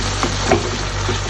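Tomatoes stirred into a sizzling Shinwari-style Peshawari chicken karahi give a loud, steady frying hiss, with a couple of brief utensil scrapes over about a second.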